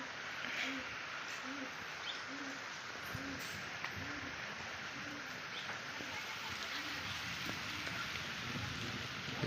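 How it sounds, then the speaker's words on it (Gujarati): Steady rain falls outdoors at a family home during an evening downpour, a dense continuous hiss holding even throughout, with a faint repeating pulse in the background. "જોઈએ કેટલો આવે છે વરસાદ."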